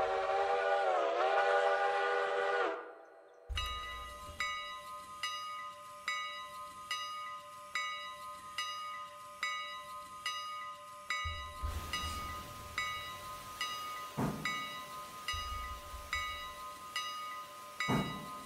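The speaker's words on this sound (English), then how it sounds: "You can definitely tell the train's heavier, that's for sure." A heavy train rolls in the Railroader video game, a steam whistle blowing at the start before a steady clanking rhythm of wheels and couplings repeats for the rest of the clip, joined near the end by a deeper rumble.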